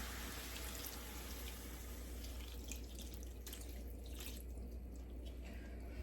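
Steady running water from a tap pours continuously into a pot holding buckwheat, a constant rushing splash with no voices.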